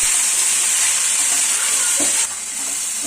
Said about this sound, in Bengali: একটু নাড়াচাড়া করে ঢেকে দেবো।